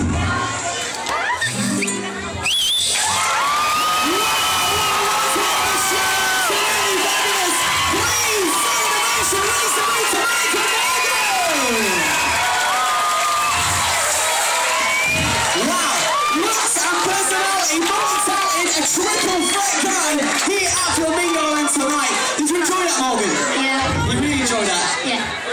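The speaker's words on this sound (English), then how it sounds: "You have this crowd up on their feet, clapping their hands, singing your song." A large talent show crowd at Flamingo Land roars with cheering, whoops and clapping, a loud, continuous wall of excited noise with individual shouts and a voice speaking within the din.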